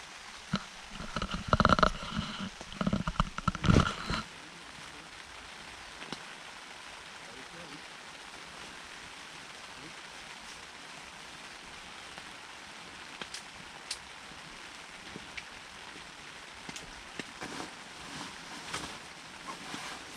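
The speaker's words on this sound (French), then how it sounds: "et pas à l'extérieur sous la pluie. Je vais donc vous laisser profiter un petit peu de ce merveilleux son encore quelques instants." Rain falls outdoors on a loch shore in Scotland, a soft, steady patter at low level with a few louder close bursts early on, largely alone.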